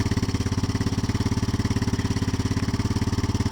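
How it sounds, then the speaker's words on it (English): A Yamaha Big Bear 350 ATV engine idles on choke, a steady, rapid thumping putter that runs evenly and close throughout, with no voices. "When the idle raises up, I'll turn the choke off and go."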